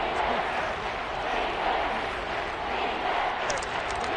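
A simulated stadium crowd in Madden 23 during a Seahawks versus Saints game cheers as a big third down approaches, a steady, dense roar of voices that holds constant throughout without pause.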